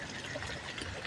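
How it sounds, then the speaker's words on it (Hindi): Rainwater runs off the NH3 highway near Didwin Tikker village, Hamirpur, and flows into farm fields, a steady close wash of trickling, pouring water with no talk over it. "हाईवे की तरफ से जो पानी आ रहा है"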